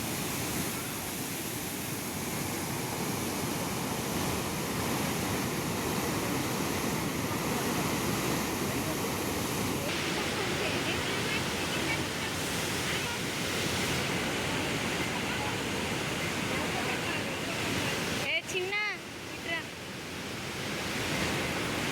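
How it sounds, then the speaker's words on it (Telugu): Fast water pours through a gate of the Nizam Sagar dam, a steady loud broadband roar of rushing flow that fills the whole stretch, with a brief bump of handling noise near the end. "ఇక్కడ గేట్ నుంచి వాటర్ ఎంత స్పీడ్గా వెళ్తున్నాయో"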